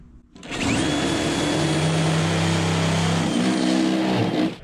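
A rivnut tool sets rivnuts into thin aluminum during a van build, giving one loud, steady motor whine that runs unbroken for about four seconds, with a slight shift in pitch partway through.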